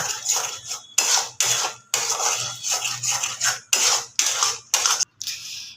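Meat and spice masala being sautéed in a pan, with steady broadband scraping and sizzling bursts broken by brief pauses, fairly loud and close, with no talking.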